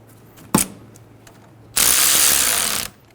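A ratchet wrench tightens the battery terminal bolt on a 2011-2014 Hyundai Sonata: one loud, close, steady run of rapid clicking lasting about a second, with a single sharp metallic knock just before it.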